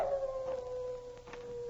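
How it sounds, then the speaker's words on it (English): A wolf dog, heard in an old Yukon adventure drama, gives a long, steady, drawn-out howl that holds one pitch over a hushed background. "they heard the wolf dog howling ahead of them"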